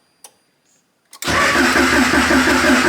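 A built turbo H22 engine in a Honda Civic cranks over after a couple of faint clicks, then a loud, steady mechanical churn starts abruptly and runs close up to the end.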